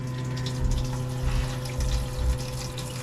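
Water runs from the tap of a pop-up camper built on a Dodge Dakota, fed by an electric pump; a steady humming drone sits under a continuous splashing flow, with no talking.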